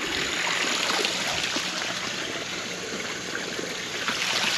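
Garden water feature trickling and splashing steadily nearby, a soft continuous burble of running water, fairly quiet and alone with no talking.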